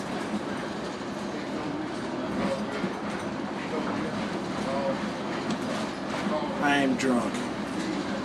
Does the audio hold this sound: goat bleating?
no